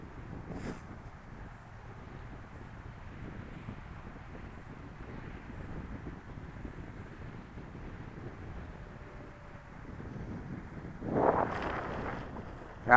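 Strong wind buffets the microphone outdoors while a remote-control Carbon-Z Cub plane is brought down to land, a steady rushing roar with a faint motor whine that swells near the end.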